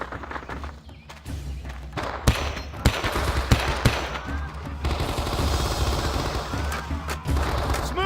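In the video game Men of Valor, M14 rifle fire and automatic bursts ring out in a combat scene: sharp, loud shots, some in rapid runs, over a dense rumbling battle bed.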